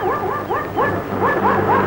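A dog gives a rapid run of high, yelping barks and whimpering yips, about eight short rising calls in two seconds, loud and close with some background noise.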